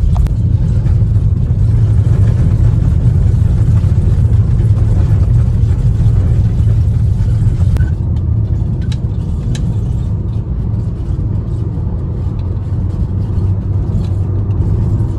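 Dense road traffic on a busy stretch of road in India, heard from inside a moving vehicle as a loud, steady engine and tyre rumble with passing vehicles, continuous throughout and without talk.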